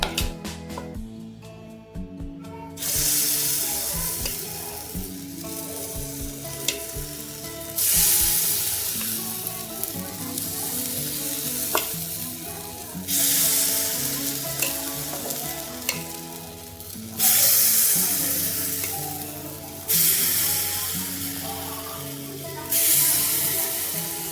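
Rava appe batter sizzling in an oiled appe pan, a loud continuous crackle that swells in repeated bursts as batter or oil goes in, no voices.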